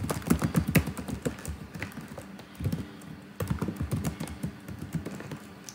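Rapid typing on a computer keyboard, a steady flurry of close, crisp key clicks with short pauses, alone with no voices.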